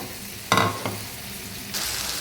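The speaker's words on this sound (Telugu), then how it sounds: "ఇలా ఇంకొక 2-3 మినిట్స్ మంచి కలర్ వచ్చే వరకు ఫ్రై అవనిద్దాం" Bitter gourd curry with tomato puree frying in a pan, giving a steady low sizzle with a couple of brief stirring scrapes early on and a brighter hiss rising near the end.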